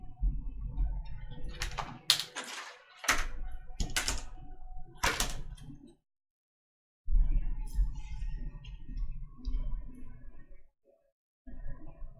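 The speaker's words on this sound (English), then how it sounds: "Just doing a little quick shuffle. I'll be speeding this part up" Rapid riffling and clacking of tarot cards being shuffled, played back fast in quick bursts separated by brief silences.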